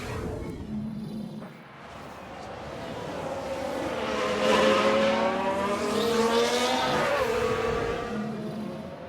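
A Williams Formula 1 car in F1 Manager 2022 spins out, its engine rising and wavering in pitch with tyre squeal, swelling louder midway and then fading off.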